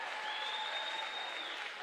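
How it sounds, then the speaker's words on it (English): A basketball crowd rises in a standing ovation for a player fouling out, a steady wash of sustained clapping and cheering that fills the gym at a distance. "And the crowd gives him a standing O."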